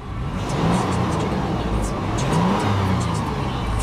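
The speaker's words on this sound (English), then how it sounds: "Very nice rev, smooth idle" A 2013 Toyota 4Runner Limited 2WD with 92,000 miles revs up close by, its engine swelling and easing in smooth waves over a steady running drone.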